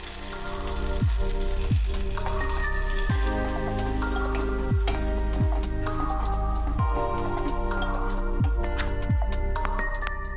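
Tempering spices sizzle and crackle in hot oil, a close, steady frying hiss with scattered pops throughout and no talk.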